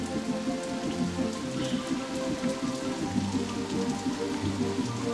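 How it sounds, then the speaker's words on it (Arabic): Rain pouring in a cartoon storm, a dense, steady hiss of falling water with a faint low rumble underneath, continuous and loud, with no voices. "لا تخاف ميسي فو، إنها أمطار سحرية"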